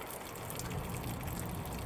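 Water gurgling and gushing out of a hole drilled near the bottom of a compost bin, a close continuous bubbling flow without any talking.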